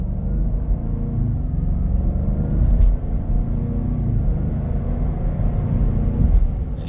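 A 2023 Land Rover Defender 110 V8 on off-road tires cruising, giving a steady low road rumble and tire drone that holds even and moderately loud throughout, with no talk.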